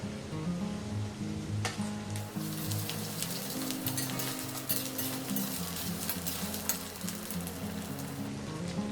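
Onion with ginger, garlic and green chilli paste fries quietly in a pan for a chicken and elephant yam curry, a soft, continuous crackling sizzle with light spattering and a low hum beneath.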